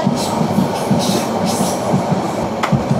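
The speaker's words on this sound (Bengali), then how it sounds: "আমাদের ট্রেন কিন্তু চলে যাচ্ছে।" Cox's Bazar Express train running through forest country, steady rolling rumble with rhythmic wheel clacks, heard from on board without talk.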